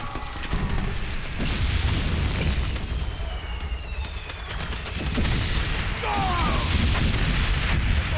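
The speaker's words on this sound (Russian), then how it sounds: "Пулемет успокоится хоть на секунду" Heavy artillery booms and machine-gun fire from the World War I video game Valiant Hearts: The Great War, loud rolling explosions and crackling shots filling the whole stretch, with a few sharper blasts toward the end.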